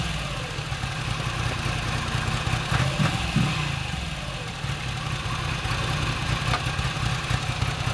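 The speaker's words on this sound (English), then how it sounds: "853 cubic centimeters, 76 horsepower and around 80 newton meters of torque in that V2 engine that produce this uneven sound." A Moto Guzzi V85 TT with its 853cc V2 engine runs close by with a deep, uneven throbbing rumble that stays steady and loud throughout, with a slight rise in revs around the middle.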